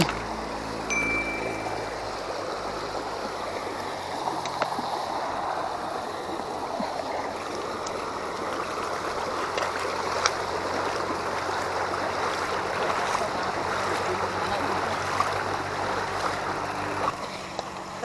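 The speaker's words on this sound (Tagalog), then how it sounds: "Tubig." A stream near Lang-ay Falls in La Union flows with a steady, close rushing hiss that holds evenly throughout, with no voices.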